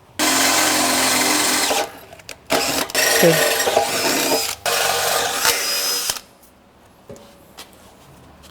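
A power drill whirs in several loud sustained bursts, with short pauses between, while stepping up to a larger bit to bore bolt holes in a Jeep bumper; a voice speaks briefly near the end.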